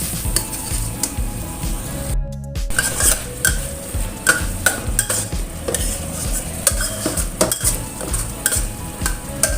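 A spoon scrapes and stirs chili with sugar in a metal pan while it dries out for a spicy-sweet purple eggplant balado, giving steady rhythmic clinks and scrapes over a low sizzle, close and continuous.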